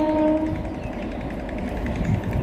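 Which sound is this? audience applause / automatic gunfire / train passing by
train passing by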